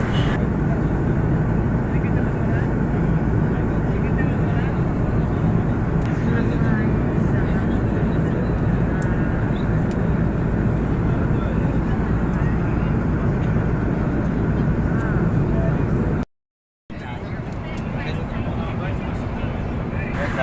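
A loud, steady roar of airplane engines fills the cabin on a Dhaka to Jeddah flight without pause, briefly cutting out near the end before resuming.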